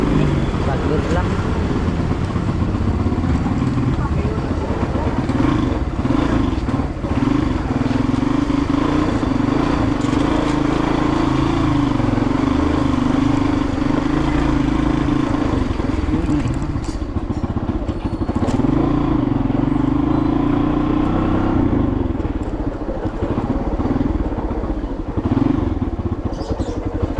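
A motorcycle rides along a residential street, its engine droning steadily and close, rising and falling slightly with speed, while a person talks over it throughout.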